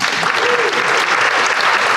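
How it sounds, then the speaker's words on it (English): A breakfast crowd at a small business awards event applauds a sponsor, the clapping thick, even and close, sustained for a couple of seconds with no voices over it. "let's give them a round of applause again"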